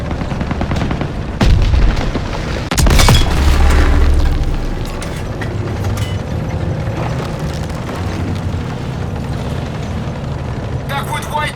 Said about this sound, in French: Rapson, la première section se fait pilonner!